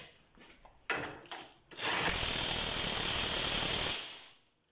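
A larger DeWalt DCF899H high-torque impact wrench set to full power torques a bolt, giving a loud, sustained rapid hammering rattle for about two seconds after a few brief clicks and bumps, then cutting off sharply.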